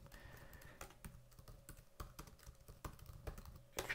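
Rapid keystrokes on a computer keyboard, soft and close, tapping in an irregular run with no voices.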